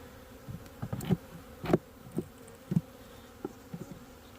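Honey bees buzz around an opened hive frame in January, a low steady hum with brief louder passes of individual bees close by and scattered rustles and knocks.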